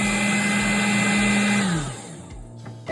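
An electric hand mixer whirs loudly and steadily through coconut pound cake batter, holding a constant pitch before winding down and stopping near the end, leaving a few faint clatters.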